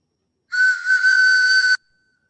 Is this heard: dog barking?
no